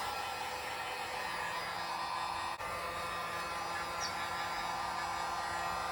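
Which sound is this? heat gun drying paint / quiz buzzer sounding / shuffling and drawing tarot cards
heat gun drying paint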